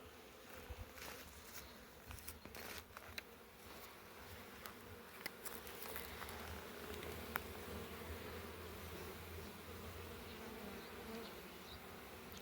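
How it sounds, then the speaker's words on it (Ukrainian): Honeybees buzzing around a hive in early spring, a steady soft droning swarm with faint occasional ticks, heard alone at a low level without talk. "Літають. Бачив бджілок з обніжжям."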